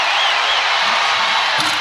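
A big arena crowd at an NCAA women's basketball game between North Carolina and Arizona roars and cheers in a dense, loud wash of sound, with a few higher whoops rising above.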